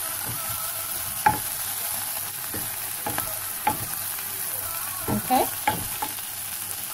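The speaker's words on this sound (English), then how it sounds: "I'm gonna add that cream of coconut, and I'm going to keep stirring." Rice and peas are stirred in a pot with cream of coconut added, Caribbean style. Scraping strokes come at irregular intervals over a steady sizzling hiss, and one word is spoken briefly.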